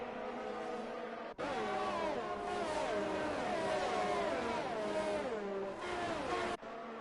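F1 race cars at Monza in the video game F1 2019, several high-pitched engines whining and shifting through gears together, loud and continuous as the pack passes.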